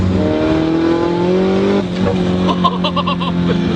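A powerful Nissan 240SX engine roars and revs loudly, its pitch climbing then dropping with gear changes, close and continuous, with a brief squeal near the end.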